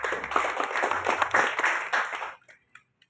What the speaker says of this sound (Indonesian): Boleh tepuk tangan untuk pagi